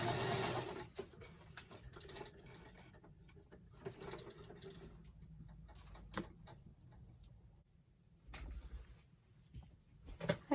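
Sewing machine zigzag-stitching journaling cards for a Christmas altered book, running in short bursts with pauses between them, close and fairly quiet, with no talking.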